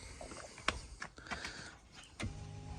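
Electric car seat motor, retrofitted in place of a manual seat, runs near the end after a few quiet clicks and taps, giving a steady close-up whine with no talking.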